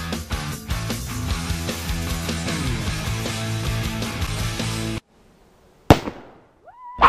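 A shaken, water-filled plastic PET bottle bursts with one sudden loud bang after background music cuts out, the crack ringing briefly before a short rising tone follows.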